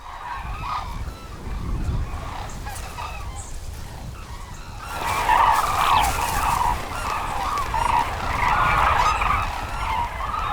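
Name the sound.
hooded cranes suddenly taking off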